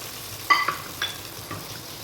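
Hot tadka of fried onions poured over beef haleem, giving a few brief sizzling bursts spaced about half a second apart over a quiet background.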